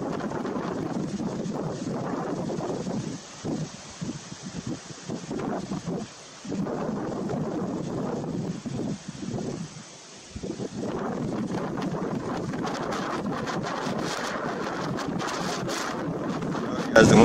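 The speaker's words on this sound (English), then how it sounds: "as the wind's picking up." Wind picking up outdoors near a FEMA/DHS task force facility, gusting and buffeting the microphone in a continuous rough roar with a few brief lulls, loud and close.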